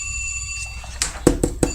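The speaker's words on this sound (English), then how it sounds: "Hold on, my phone is ringing." A phone rings in a quiet room, a short electronic tone followed by three quick repeated ring bursts, moderately close and alone without talk.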